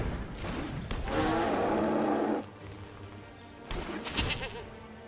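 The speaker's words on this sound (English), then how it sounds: "We got goats" Goats bleating in the Magic: The Gathering Arena video game, several wavering bleats in a short sequence with one long loud cry in the middle, clear and close with no talk.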